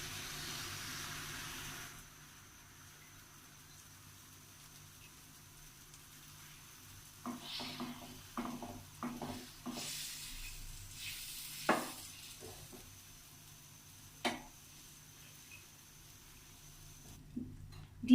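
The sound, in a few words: egg mixture sizzling as poured onto butter in pan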